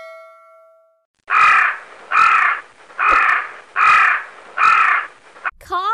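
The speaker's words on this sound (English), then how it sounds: "Crow." A crow caws five times in loud, harsh, evenly spaced calls, played as a sound effect in a baby learning app.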